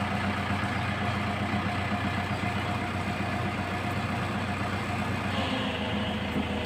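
A vehicle engine idles with a close, steady rumble that shifts slightly near the end, and no one speaks.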